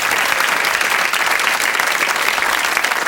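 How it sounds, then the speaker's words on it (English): Steady, dense applause from a television game show studio audience, loud and close, sustained evenly with no talking over it. "we'll give you a round of applause to take you there."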